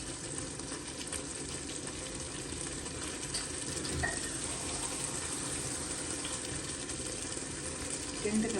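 Water pours into a pot of chicken biryani as a steady, continuous hissing rush that runs for several seconds at a fairly even level, with a faint sizzle underneath.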